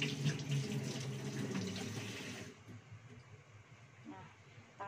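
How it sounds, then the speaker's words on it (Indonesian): Hands are washed under a running tap, water splashing steadily for a couple of seconds before the flow stops, leaving quiet room sound with faint movement. "cuci tangan dulu guys"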